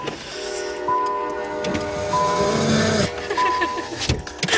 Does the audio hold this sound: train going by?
yes